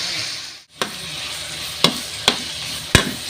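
Onion, garlic and tomato sautéing in a pan for a mung bean dish: a steady close sizzle with several sharp scraping stirs of the spatula.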